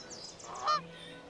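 A goose in a PS5 video game gives a couple of nasal honks, short and clear, with a faint game backdrop.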